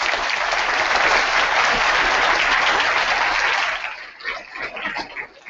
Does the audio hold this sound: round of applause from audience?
yes